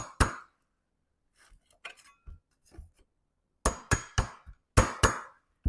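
Sharp metallic hammer strikes, close and loud: a single blow, scattered lighter taps, then a rapid series of heavy hits with short pauses.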